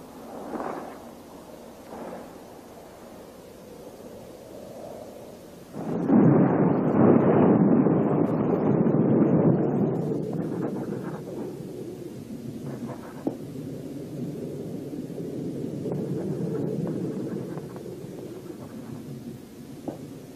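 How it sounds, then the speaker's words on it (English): Thunder rolls through a stormy night at a mansion, a low rumbling swell that builds suddenly and loud, then slowly fades into a lingering storm wash. "that storm was coming"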